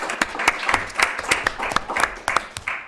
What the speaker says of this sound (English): You follow around with a bunch of people who are going to clap when you show up.